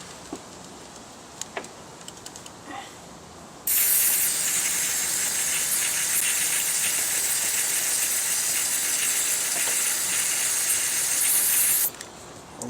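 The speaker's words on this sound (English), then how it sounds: "We ain't finished yet with the chain cleaner." Aerosol chain cleaner from a fresh can sprayed onto a bicycle chain in one long, loud, steady hiss lasting about eight seconds, with faint ticks and rattles before it starts.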